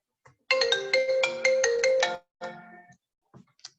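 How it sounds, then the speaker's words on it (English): A mobile phone ringtone goes off during a webinar, a melodic electronic tune of repeated bright notes in several short phrases, fairly loud and close, then a few quieter trailing notes. "I forgot to put my phone on mute"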